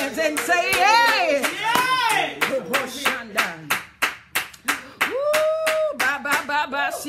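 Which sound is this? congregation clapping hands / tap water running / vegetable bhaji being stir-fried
congregation clapping hands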